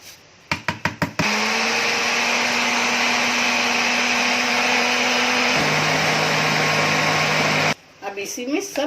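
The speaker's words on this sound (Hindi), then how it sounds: "अभी चावल इसमें डाल रही हूँ मिक्सी में" Electric mixer grinder coarsely grinding soaked rice for Konkani sandan batter. It starts with a few short pulses, then runs in a loud, steady whine that drops in pitch midway and stops abruptly near the end, followed by faint clatter.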